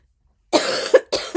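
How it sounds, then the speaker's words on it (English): A person with a lingering illness lets out a short burst of harsh coughs, two close hacks followed by another pair after a brief pause, near and fairly loud against otherwise silent surroundings. "I've just been coughing so much"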